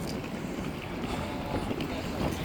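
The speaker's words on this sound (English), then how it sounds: "It's a bit windy." Gusty wind buffets an outdoor microphone ahead of a storm, a steady, fairly faint rush of broadband noise with small swells and no talk.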